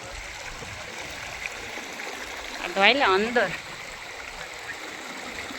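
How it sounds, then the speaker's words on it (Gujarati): A stream flows steadily near the Bileshwar Mahadev temple, its constant rushing close and even, while a voice speaks briefly over it partway through. "સરસ મજાનું ખળતું ખળતું વહેલું"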